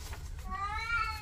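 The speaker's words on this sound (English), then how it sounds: "Oh, black cat." A black cat meows once, a rising drawn-out cry over a steady low background hum, close and fairly clear.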